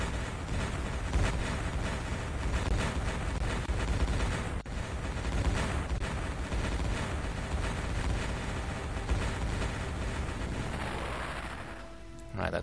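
Tank battle against a fortress in the strategy game Imperium Galactica: dense, continuous rumble of cannon fire and explosions, loud and unbroken for most of the stretch before thinning near the end.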